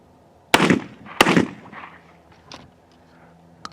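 Two loud, close blasts from a Cimarron 1878 double barrel shotgun firing Remington number 6 shells in cheap black hulls, about half a second apart, each with a short echoing tail, followed by faint clicks and handling noise.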